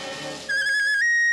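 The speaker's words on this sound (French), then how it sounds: "Si seulement on avait le sifflet magique, on serait sauvés. Mais je l'ai, le sifflet!" A shrill whistle blast sounds once, a steady piercing tone that rises slightly and holds, following a brief burst of noisy music, in a Smurfs cartoon.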